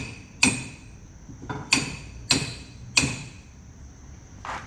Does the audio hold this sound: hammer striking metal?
yes